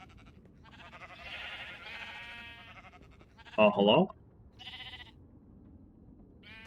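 Minecraft sheep bleat several times, a couple of short wavering cries near the middle standing out loudly among softer ones, while someone talks briefly.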